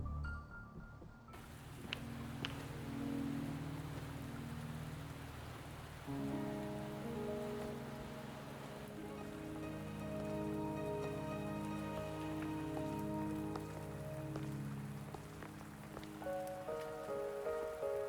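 Rain falling in the video game Wuthering Waves at Mt. Firmament, a steady wash of rainfall beneath sustained melodic game music with layered tones throughout.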